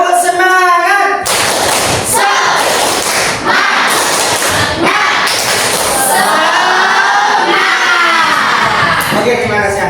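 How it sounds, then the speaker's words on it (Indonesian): A group of children in a classroom perform a spirit clap, rhythmic claps and thumps mixed with loud shouting and chanting voices, close and energetic. "Tepuk semangat."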